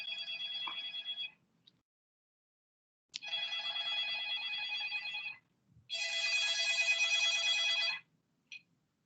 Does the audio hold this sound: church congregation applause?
no